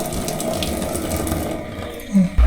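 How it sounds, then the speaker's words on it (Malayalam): Hot water pours off boiled tapioca in a steady, close rush of liquid, ending with a brief clunk of the pot. "അതിലെ വെള്ളം നമുക്ക് ഊറ്റിക്കളയണം."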